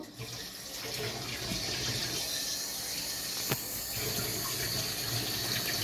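Water runs steadily from a tap into a pan of mutton keema, a continuous splashing hiss close by with a single brief knock partway through.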